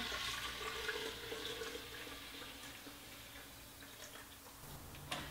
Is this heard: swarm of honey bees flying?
no